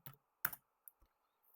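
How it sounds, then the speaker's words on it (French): Keys tapped on a computer keyboard while entering quantities into dairy sheep farming software: a few separate, fairly faint clicks with pauses between them, alone with no talk. "on va venir mettre avec le clavier ici, vous tapez vos quantités"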